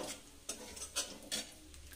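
Black cumin seeds frying briefly in oil, with a soft crackle and a few light, evenly spaced scrapes or taps of a spoon in the pan, quiet and close.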